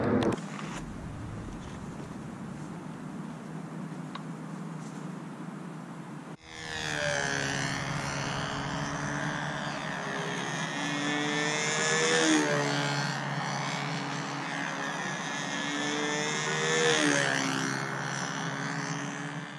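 An SV11 control line model airplane engine runs at a high-pitched, buzzing whine that swells and dips as it circles, starting abruptly after a windy hush and staying loud.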